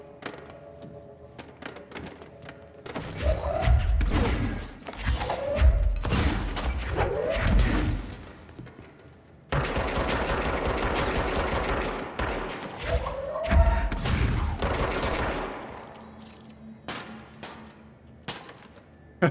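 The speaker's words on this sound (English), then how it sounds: "I love how they keep exploding." Repeated heavy explosions and gunfire bursts in the video game Control, loud and dense, arriving in clustered booms with whooshing debris and crackling fire over about twenty seconds, with brief pauses between volleys.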